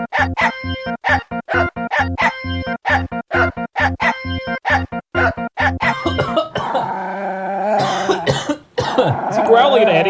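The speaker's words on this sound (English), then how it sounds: "Flashbacks to Christmas songs with dogs barking!" A Christmas song performed with dog barks and yips as the notes, a rapid run of short, evenly paced barks up front that gives way to fuller, denser music with chiming accents near the end.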